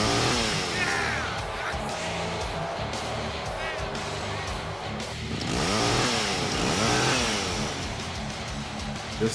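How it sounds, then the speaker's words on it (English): A chainsaw revs loudly over a thick crowd roar at a wrestling entrance for a lumberjack character, the motor whining up and down in repeated bursts while commentators talk over it. "They got my man coming out with a chainsaw"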